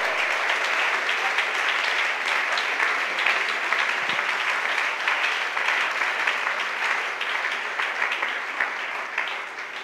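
A church congregation applauds during a sermon, a dense, sustained wash of clapping that holds steady throughout before easing slightly at the end.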